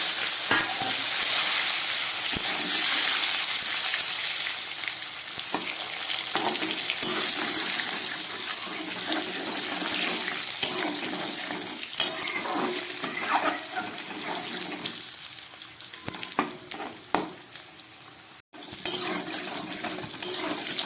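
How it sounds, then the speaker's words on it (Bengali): A few potato pieces fry in hot oil seasoned with bay leaf and cumin, making a dense, steady close sizzle with occasional stirring scrapes and a brief pause near the end, with no voices. "এই গরম তেলের মধ্যে আমি কয়েক টুকরো আলু একটু ভেজে নিচ্ছি।"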